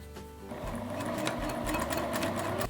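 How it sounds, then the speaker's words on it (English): A sewing machine stitches bias tape onto an apron made from a shirt, running steadily and close at a quarter-inch seam, a continuous mechanical whir with no talk. "then you're going to just stitch down at about 1/4 inch."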